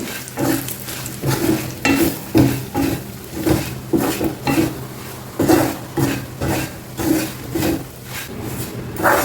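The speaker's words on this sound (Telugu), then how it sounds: "ఒక్కసారి ఇది బాగా కలిపేసేయండి" A spoon scrapes and stirs green chillies in a frying pan in rhythmic strokes, about one per second, over a soft sizzle close by.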